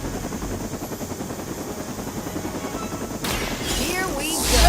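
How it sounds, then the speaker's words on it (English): Helicopter in a video game, a steady rapid rotor chop throughout with gunfire-like bursts and rising game noise near the end, under faint talk. "The helicopter is about to leave."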